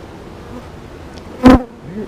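Honey bees buzz around an open hive on a farm, with one loud bee passing close by in a brief swell over a faint background hum.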